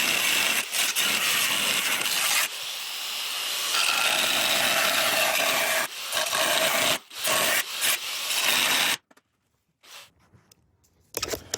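Steady rasping and scraping of a tool cutting a slit in metal during a car engine swap, continuing for several seconds with brief pauses, then falling quiet with a few faint knocks at the end.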